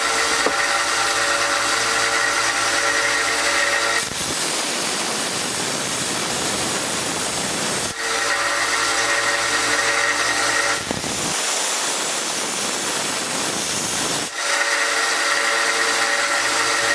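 Loud, steady grinding whine of a small 1x30 belt sander against a metal shim, running continuously with a few brief pauses and restarts.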